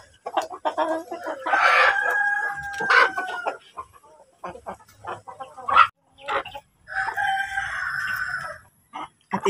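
Rhode Island Red chickens on a farm crow several times in long, drawn-out calls mixed with scattered clucking, close and fairly loud, with short quiet gaps between bursts and no speech.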